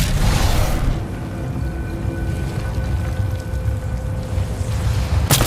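Heavy battlefield gunfire and deep explosive booms in the shooter game Titanfall 2, a dense, loud rumble that runs continuously with a sharp burst near the start and another at the very end.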